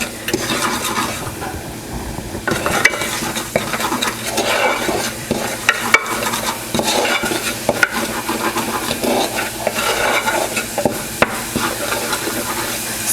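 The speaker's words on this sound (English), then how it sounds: "just cook that up for just no more than a minute or so to get it kind of smelling good and get your garlic roasted a little bit" Garlic sautéing in a pan on the stove, a continuous crackling sizzle with repeated scraping stirs and occasional clinks of utensil on metal, close and moderately loud, no talking.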